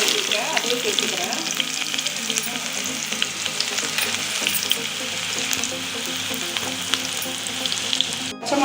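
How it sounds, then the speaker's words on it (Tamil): Chopped onion crackles and sizzles loudly in a pan of hot oil for Kerala fish curry, a dense, continuous frying hiss with light stirring scrapes, heard up close without talk. "இப்போ ஒரு பெரிய வெங்காயம் எடுத்துருக்கேன், அதையும் சேர்த்துக்கிறேன்."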